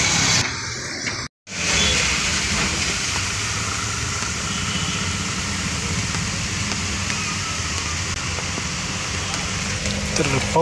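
Steady rain pours down around a stalled auto rickshaw, a dense continuous hiss with a low rumble beneath, broken only by a brief drop-out near the start.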